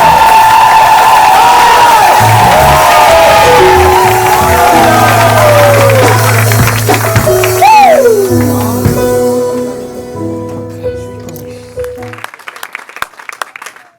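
A church conference congregation roars and shouts loudly together, a dense sustained crowd wave that slowly subsides into scattered claps and cries near the end.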